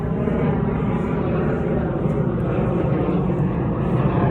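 A fixed-wing airplane passes overhead as a steady, loud, broadband engine roar that fills the whole stretch with no talking over it.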